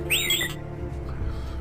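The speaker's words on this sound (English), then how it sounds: "This is the sound that R2-D2 makes." The beeping, warbling droid voice of R2-D2 chirps briefly and brightly over a steady low hum, then fades into the background drone.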